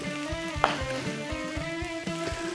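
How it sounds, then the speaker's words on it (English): Peppers and onions sizzle steadily on a hot Blackstone griddle, a dense close frying hiss with soft crackles and a low hum running underneath throughout. "We'll let those peppers and onions cook a little bit."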